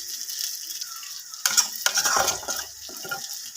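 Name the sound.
onion paste frying in pan for Assamese fish curry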